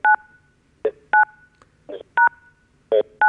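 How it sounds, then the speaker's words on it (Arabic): Telephone keypad tones during a call on an Egyptian football talk show, several distinct beeps in an uneven rhythm, loud and close with quiet gaps between them and no talking. "انت عمال تدوس على التليفون"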